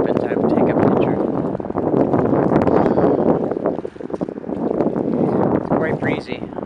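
Gusty wind buffets the microphone at the water's edge in a continuous loud roar, and a person talks underneath the rumble.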